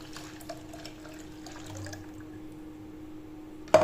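A ground buttermilk curry mixture pours into a cooking vessel, a soft, continuous liquid trickle and splash ending with a brief clatter, with no talk.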